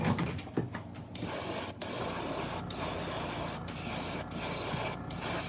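An airbrush fitted with a 0.2 mm needle and run at high air pressure hisses steadily as it sprays a second coat of paint onto a camo fishing lure, broken by a few brief pauses, close and loud with no talking.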